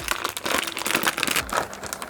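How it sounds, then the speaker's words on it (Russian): A plastic vacuum bag is turned inside out while preparing ribs for smoking, giving continuous close crinkling and rustling with brief sharper crackles. "Выворачиваем пакет наизнанку, чтобы не запачкать края будущей спайки."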